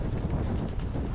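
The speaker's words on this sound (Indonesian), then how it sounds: "dengar juga dari video ini suara angin di luar tuh kenceng banget" Strong wind roars steadily outside a tent on Mount Ciremai during a night storm, a dense low rumble buffeting the microphone with no break across the whole moment.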